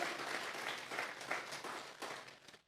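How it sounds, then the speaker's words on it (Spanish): A church congregation applauds briefly, a soft, fairly distant burst of clapping that fades out at the end. "Vamos a regalarle ofrenda de palmas al Dios de la gloria."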